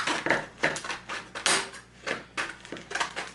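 A dull knife scrapes and crunches against stiff plastic blister packaging around a Mastercraft wood burner, in a quick irregular series of close, crackling scratches and snaps.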